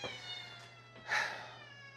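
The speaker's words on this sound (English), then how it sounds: "my cat is going crazy" A cat meows once, loud and close, in a short agitated call over a steady low hum, with faint tonal background sound around it.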